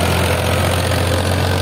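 Powertrac Euro 439 tractor engine running steadily with a cultivator attached, a loud, close, continuous low diesel drone that holds an even idle-like rumble throughout with no talk.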